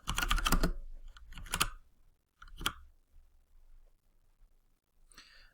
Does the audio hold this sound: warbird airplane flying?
no